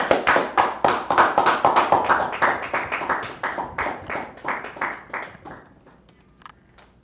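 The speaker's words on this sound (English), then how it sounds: "Clap it up for the class." A class claps in unison in a steady rhythm for several seconds, the claps loud and close at first, then thinning and fading out.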